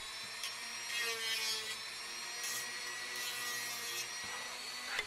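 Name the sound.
power tool removing material from seam lines of 3D-printed sword blade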